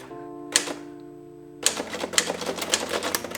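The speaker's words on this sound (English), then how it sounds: "This is a vintage functioning typewriter, in the sense that it still fully functions" A fully working vintage typewriter clacks up close, with a single key strike followed by a quick run of rhythmic keystrokes over a faint steady hum.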